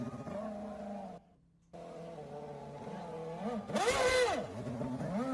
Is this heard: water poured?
no